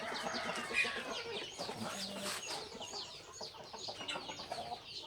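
Breeding fighting cocks at a Thai farm cluck and call faintly in a dense, continuous background of bird noise, with no clear voices over it.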